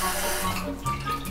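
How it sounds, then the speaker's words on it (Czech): A working shower in a bathroom runs steadily, a broad continuous hiss of falling water, close and fairly loud throughout, with no voices. "Funkční sprchovej kout, teče voda."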